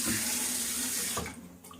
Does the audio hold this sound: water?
yes